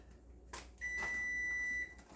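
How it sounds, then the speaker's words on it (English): A kitchen timer gives one long steady electronic beep of about a second in a quiet kitchen where focaccia bread is being baked, with faint handling noises before and after. "let me turn the timer off"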